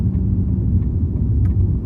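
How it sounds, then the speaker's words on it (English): A bus not in service drives along an empty city street in Durham on the first day of lockdown, a steady close engine rumble and road noise throughout without talk. "There's the bus not in service."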